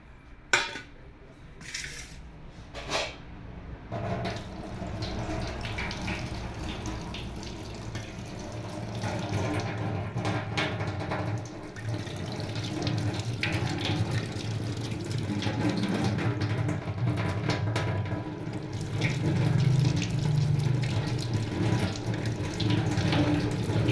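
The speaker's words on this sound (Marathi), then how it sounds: "सुरुवातीला मी तीन बटाटे घेतलेले आहेत आता आपण ते धुवून घेऊया" Tap water runs steadily into a kitchen sink as three potatoes are washed, with occasional knocks and clinks of dishes at the start, a continuous close rushing that grows slightly louder toward the end.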